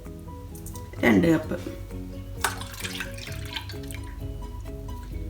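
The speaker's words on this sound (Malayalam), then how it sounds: "ഇതിലേക്ക് ഞാൻ 500 ml അതായത് 2 കപ്പ് മിൽക്കാണ് ചേർക്കുന്നത്." Two cups of full cream milk pour into a saucepan with a brief liquid splash early on. A person speaks over the quieter kitchen sounds that follow.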